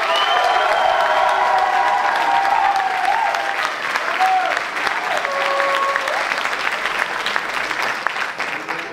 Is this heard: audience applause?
yes